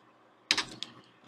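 Keyboard keys struck while modeling in Houdini on a computer, a sharp clustered clack of a keypress followed by two lighter taps, close and clear against a quiet room.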